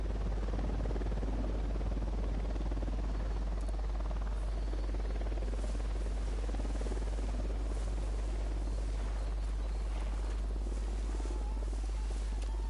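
A steady, droning helicopter rotor in the video game Ghost Recon Wildlands thrums without pause, a dense rumbling wash with a strong low hum that holds level throughout.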